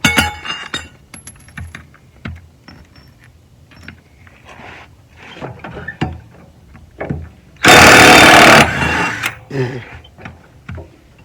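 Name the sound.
impact wrench with 15-16 socket on mower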